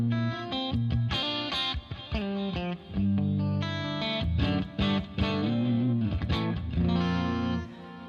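Clean electric guitar through an amp on the Ballad Clean preset, with chorus, reverb and delay, plays a steady run of plucked notes and chords, close and clear, with no talk over it.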